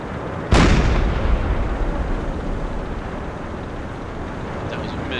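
A ship's deck gun fires once in the submarine game Silent Hunter 4, a sharp loud boom followed by a long rumbling roar that slowly fades under steady sea and engine noise.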